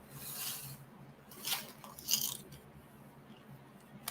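Someone crunching and chewing a crisp snack close up, giving a few sharp crunchy bites with quieter chewing between them and no talking.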